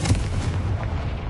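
A fiery Confringo spell blast from the video game Hogwarts Legacy, a loud low booming burst that hits hard at the start and keeps rumbling steadily for about a second with no talk over it.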